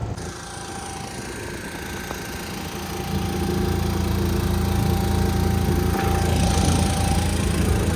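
Steady drone of a motor boat engine on the river at Omkareshwar, running close and continuously, growing a little louder partway through with no talking.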